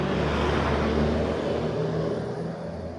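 A tourist bus on a road in Tanah Datar with a low, steady engine rumble close by, easing slightly as it passes.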